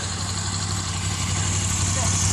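A Ducati Scrambler motorcycle engine runs at a steady low rumble nearby, an even idle-like drone under a person talking.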